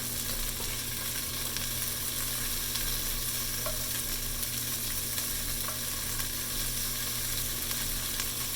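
Salt and pepper shrimp frying in a crowded pan just after being flipped, giving a loud, continuous close-up sizzle that holds steady throughout without any talk.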